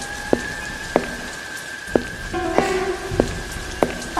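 Steady rain falls outside a house, a constant wash of noise broken by sharp drips or taps landing about once a second, with no voices.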